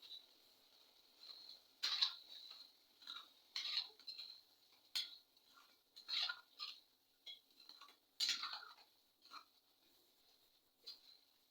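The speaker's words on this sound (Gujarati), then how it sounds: "થોડી કોથમીર ભભરાવીને બધી જ વસ્તુને મિક્સ કરી લઈશું" A spoon scrapes and clinks against a metal pan while dum aloo with coriander is mixed, a series of close, uneven taps and scrapes over near silence.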